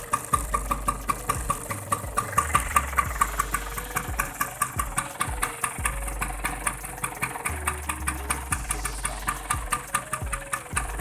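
An original 1970 Vespa Super scooter with a round headset running at idle, a steady close putter of rapid, regular small-engine pulses with faint rhythmic ticking throughout.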